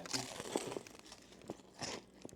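A few sharp, crisp crunches up close as teeth bite into crispy fried chicken tenderloin, with crinkling chewing sounds between them.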